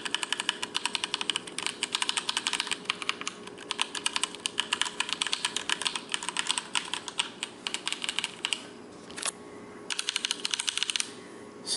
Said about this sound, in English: Here's the clicking test of it.